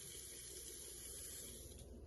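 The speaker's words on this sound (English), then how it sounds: "So now I have clear water running out of the sink" Clear water runs steadily from the sink tap of a Ram Promaster camper van with a Truma AquaGo hot water heater, a constant close splashing hiss with no voices.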